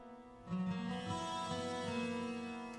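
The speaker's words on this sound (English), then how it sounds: "Put a little reverb on that thing," A guitar plays a short phrase soaked in reverb, its notes blooming and hanging in a wide, washy space with no voices.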